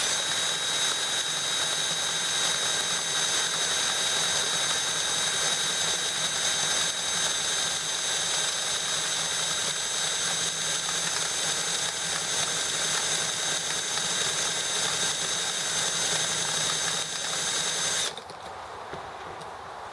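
An EM1 engine cranks over on a morning start attempt: a loud, continuous whirring drone with a steady pitch runs for about eighteen seconds without catching, then cuts off, leaving quieter background noise.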